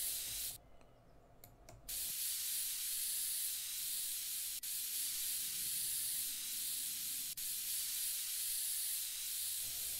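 Blue spray paint hisses from a can in the woodworking game Woodwork Simulator, a long continuous spray that briefly cuts out near the start, then resumes and runs steadily with two tiny breaks.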